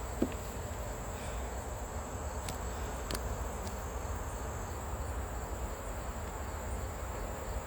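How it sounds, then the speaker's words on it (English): Steady honey bee buzzing at an open hive fills the scene, a dense continuous drone with a few sharp clicks and taps breaking through now and then. "let's get these bees out of the way"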